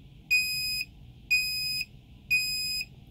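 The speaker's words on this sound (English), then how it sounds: "Let's try to trigger the alarm and see what happens." A Proteus Aquo Wi-Fi water sensor alarm sounds three loud, evenly spaced high-pitched electronic beeps, each lasting about half a second, close by in a quiet room.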